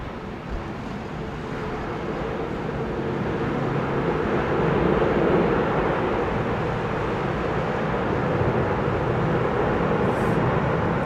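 An Airbus A330neo airliner at Heathrow Airport produces a broad, steady jet roar that swells slightly midway and holds, sounding fairly near and continuous with no talking.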